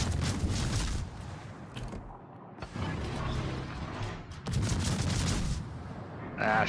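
Naval turrets firing in a warship video game, heavy booming salvos rolling out in several bursts, loud and close, with rumbling decay between them.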